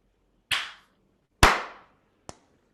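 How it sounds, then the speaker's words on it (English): A group claps in unison on a count: two sharp, crisp claps about a second apart, then a third, quieter and shorter, each ringing briefly in a quiet room. "Clap."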